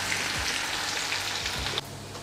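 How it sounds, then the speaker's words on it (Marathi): Cumin, mustard seeds and garlic sizzle steadily in hot oil for a Marathi-style brinjal masala curry, a close, continuous crackling hiss with occasional sharper pops, heard alone with no talking. "जिरी मोहरी छान तडकत आहे"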